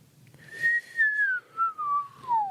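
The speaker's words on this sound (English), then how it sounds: "That's a good whistle." A single person whistles a wavering, gliding tune in several short phrases, clear and close, with no talking.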